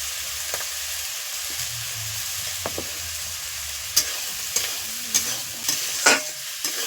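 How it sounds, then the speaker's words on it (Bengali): Turmeric and chillies sauté in oil in a pan with a soft, quiet sizzle, while several sharp scrapes and taps of a spatula stir the mix near the end. "বন্ধুরা, একটু কষতে থাকবো।"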